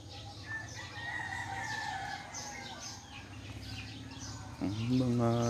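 Outdoor birds around a small home garden, a rooster crowing and fowl clucking amid steady chirping and background noise, with a louder crow rising near the end.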